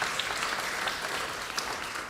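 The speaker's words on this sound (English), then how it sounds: "Let's give each other a round of applause." A church congregation applauds together, a steady dense wash of clapping heard alone for a couple of seconds at moderate distance.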